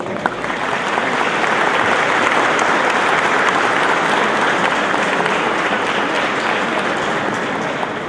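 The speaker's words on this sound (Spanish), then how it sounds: "También queremos destacar y agradecer y pedir un aplauso" Sustained, dense applause from an audience at a judo event in June 2013 fills the space evenly at steady loudness from start to finish.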